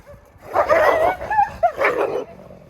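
Dogs bark and yelp excitedly nearby as they are let out, high whining yips mixed with sharp barks in a continuous agitated burst.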